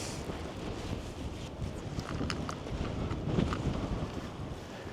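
Strong wind buffets the microphone on a shore while fishing for cod over rough ground, a steady roaring rumble swelling and easing with gusts.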